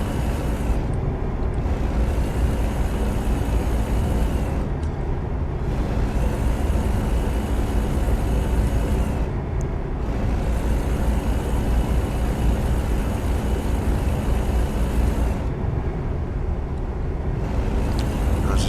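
Steady, loud diesel drone of a Kenworth truck in American Truck Simulator, set up for torque and cruising, with a constant engine rumble and hiss that briefly drops back at regular intervals.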